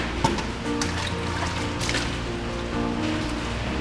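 Rain comes down outdoors at a rural homestead, with vehicles parked out in the wet. Busy, dense patter and splashing carry throughout, with scattered sharper drips standing out. No voices.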